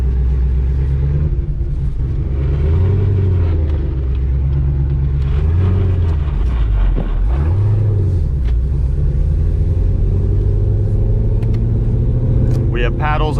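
A 1,000 hp Hennessey Exorcist ZL1 Camaro, a manual Chevy muscle car, drives on the road with a loud, steady low engine drone that swells and dips as revs rise and fall, while someone talks over it.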